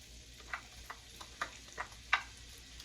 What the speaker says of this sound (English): And then I'm going to add my onions, and I'm going to cook my onions down.